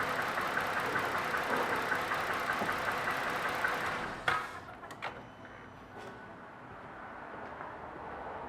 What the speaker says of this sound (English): This is a 6-cylinder engine.